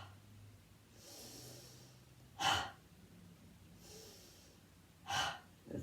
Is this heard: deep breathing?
yes